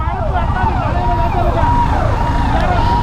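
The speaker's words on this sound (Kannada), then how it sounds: "ಏನು ಗುರು ಆಂಬುಲೆನ್ಸ್ ಐತೆ" An ambulance siren wails loud and close on a busy road, its rising and falling sweeps repeating over a constant rumble of traffic.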